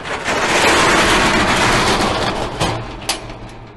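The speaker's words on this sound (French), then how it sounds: "il suffit juste de venir tirer notre rideau métallique, de le verrouiller" A metal roller shutter on a commercial front is hauled down in a loud, sustained metallic rattle that eases off and ends in a sharp clunk as it is locked.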